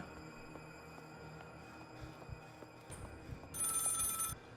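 A telephone rings in the horror game Maid of Sker, a repeated bell-like ring that swells loud near the end over dull game ambience, with no talk.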